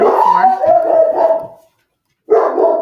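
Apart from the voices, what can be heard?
dog barking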